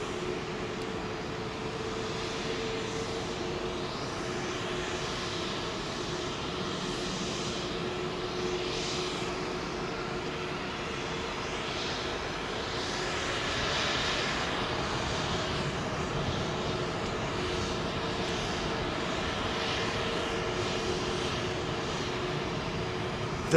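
A heavy airliner departs London Heathrow runway 27L, its engines giving a loud, sustained roar that stays strong for the whole stretch and swells a little midway.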